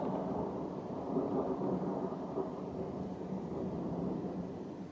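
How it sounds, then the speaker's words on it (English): Low, continuous rolling thunder rumbles on for several seconds, distant and steady, with no voices. "Oh my god, it's really long thunder."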